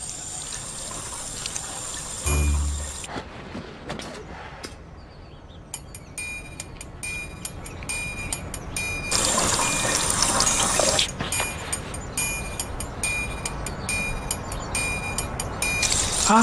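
Water runs and trickles from a drinking fountain, a steady liquid flow with light clinks, fairly loud and close, broken by a brief pause near the start.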